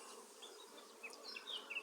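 Buckfast honeybees buzzing at an open hive, a close, continuous humming drone with individual bees whining past, no voices.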